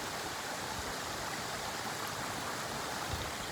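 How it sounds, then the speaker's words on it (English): A small waterfall on Stair Gulch Trail rushes steadily, a soft, even wash of falling water that holds at the same level throughout with no voices. "we made it to this really beautiful, here's Scoochie, really beautiful little waterfall"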